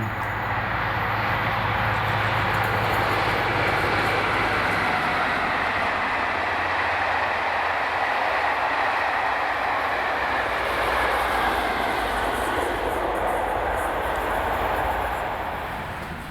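A train passes with a Class 57 diesel locomotive, 57314, leading a Class 313 electric unit in Scotland, a loud sustained rumble and rush of wheels and engine close by for the whole stretch, fading slightly at the end.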